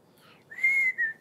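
A person whistles to imitate a melody: one short, clear note that swells and holds for under a second, close and quiet, with no talking around it.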